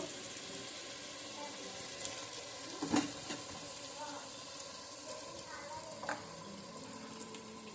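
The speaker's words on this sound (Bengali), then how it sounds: "এখন আমি চালটা দিয়ে দেবো" Rice tipped into a pot with spices and potatoes for a birthday-night biryani, frying with a soft, steady sizzle and a few light stirring clicks and knocks, around the three- and six-second marks.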